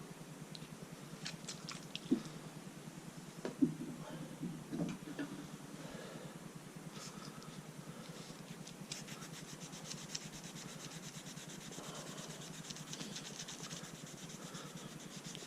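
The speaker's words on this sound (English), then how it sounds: "a bit of elbow grease, look. And that paint's coming off." Paint being rubbed by hand off Lambretta GP 125 toolbox parts. Faint, close scraping and rubbing strokes come in uneven bursts over a quiet background.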